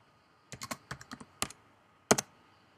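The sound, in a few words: typing on computer keyboard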